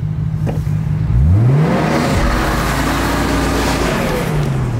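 A car being drifted revs hard and loud throughout, its engine pitch sweeping up and down steadily with a continuous roaring whine and no speech.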